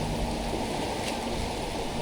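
River water rushing and splashing during a crossing on the way to a waterfall, a dense, continuous loud roar close by with no pauses.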